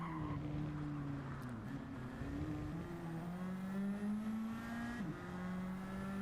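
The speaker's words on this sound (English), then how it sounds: "just really enjoy the sound of these cars. For a GT4 car, they sound pretty awesome" GT4 race car engines in a racing game, a steady loud buzzing drone that climbs through the revs and drops briefly at gear changes, with faint tire squeal and no talk.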